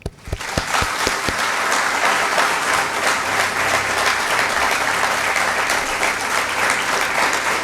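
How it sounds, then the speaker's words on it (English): A large audience claps steadily and loudly throughout, a dense sustained wave of applause after a few sharp opening claps. "That's why we applaud you"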